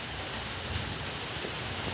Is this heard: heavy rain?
yes